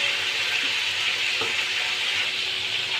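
Chicken pieces for a roast fry in hot oil in a pan, giving a steady, close, even sizzle with a soft clink or stir partway through and no voices.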